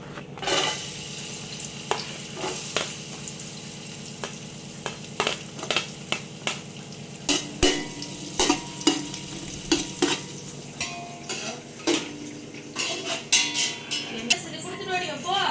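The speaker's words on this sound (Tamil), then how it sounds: "திராட்சை எடுத்துடலாம், போட்டு வறுத்து எடுத்துக்கலாம்" Raisins fry in a pan for a large two-kilo batch of kesari: a low, steady sizzle punctuated by rhythmic, close spoon scrapes and clacks against the metal.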